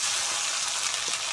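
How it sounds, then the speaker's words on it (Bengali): Ginger paste fries with tomato and green chilli in a pan, a brief steady close hiss of sizzling oil. "এবারে দিয়ে দিচ্ছি পরিমাণ মতো আদা বাটা।"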